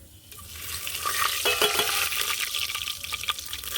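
Oil poured into a pan of masala being fried, a bright sizzling hiss swelling up and holding steady with stirring scrapes and a few clinks, close and fairly loud.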